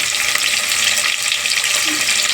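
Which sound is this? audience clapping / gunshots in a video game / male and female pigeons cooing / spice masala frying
spice masala frying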